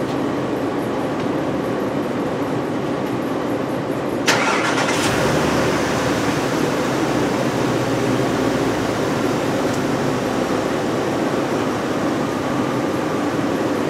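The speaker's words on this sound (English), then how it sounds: "So let's get the car fired up and see what our fuel trims look like." A 2005 VW Touareg 4.2L V8 cranks with a sharp burst and fires up, then settles into a steady, loud idle hum, no voices over it.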